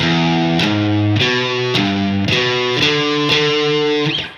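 A distorted electric guitar plays a repeating arpeggio riff, notes shifting in steady groups, loud and close with no talking.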